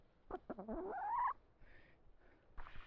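A chicken lets out a rising, drawn-out cluck close by, followed by a few softer, quieter clucks and murmurs.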